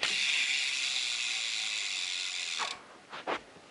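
Green Primo Remix rear hub on a BMX bike, its ratchet freewheeling in a fast, continuous buzzing click close up for a few seconds, then stopping, followed by a couple of short separate clicks.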